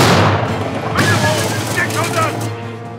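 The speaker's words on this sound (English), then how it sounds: "AP, 500 yards, fire!" A tank cannon fires an armor-piercing round at 500 yards during a skirmish with a Tiger tank. A heavy, loud boom fills the start, then a rumbling wash continues with shouting voices over it.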